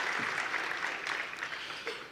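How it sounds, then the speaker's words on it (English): Audience applause at a black-tie university scholarship gala, a steady wash of many hands clapping that holds throughout, fairly loud and continuous without voices on top. "Let's give ourselves another round of applause."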